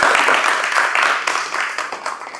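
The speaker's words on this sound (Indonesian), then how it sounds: "Tepuk tangan untuk Mas Ilham." Applause in a vocational automotive classroom, a short, dense burst of clapping from a group of students that gradually thins out, with a little talk over it.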